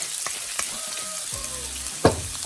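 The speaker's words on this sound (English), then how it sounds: "And we're going to give that a stir." Fish curry frying in a pan, Goan style, gets a stir: a steady close sizzle with soft scraping strokes through the middle and one sharp utensil knock near the end.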